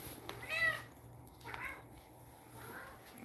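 A house cat meows three times at close range in a quiet room, a clear cry followed by two shorter, softer calls.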